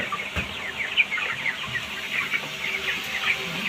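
Broiler chickens kept on rice husk litter cluck in a steady flock chatter, many soft overlapping calls close by with no voices.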